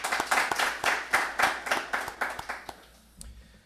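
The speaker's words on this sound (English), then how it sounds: "I'd like to give a round of applause for the family and friends that are here attending" A small audience at an executive protection training graduation claps, about a dozen sharp, evenly spaced hand claps up close that taper off into quiet.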